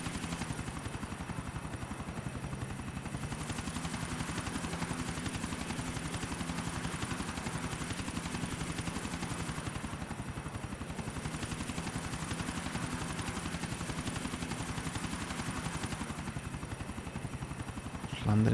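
A helicopter in the video game GTA 4: The Ballad of Gay Tony thrums with a continuous, dense rotor roar at steady loudness from start to finish.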